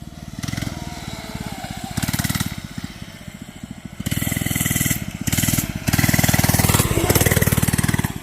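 FRP GMB100 mini bike with a small single-cylinder engine climbing a hill, loud close chugging putter that surges and drops in several throttle bursts, ending in a sustained strained run.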